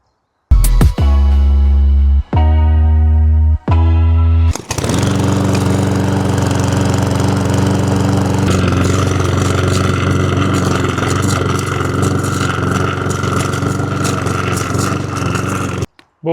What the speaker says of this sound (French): Voici ma tondeuse.